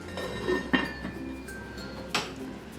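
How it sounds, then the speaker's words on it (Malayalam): A metal lid is set on a pot of boiled Naruneendi sarbath syrup after the gas is turned off, making a few close, bright clinks and clanks: one sharp knock early on and another a second or so later, with faint rattles between. "ഇനി ഇത് ഗ്യാസ് ഓഫ് ചെയ്ത ശേഷം ഇതൊന്ന് മൂടി വെക്കാം"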